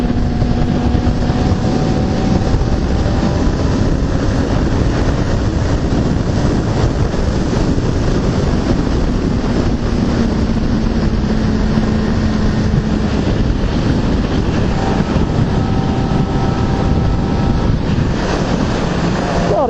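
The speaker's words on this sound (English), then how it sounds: "The note of that exhaust as well, when you wind her up and the exhaust starts to really howl." A Yamaha R6 sport motorcycle at high revs, a loud, continuous engine roar with a droning, sustained exhaust tone, close and steady throughout, with no voices.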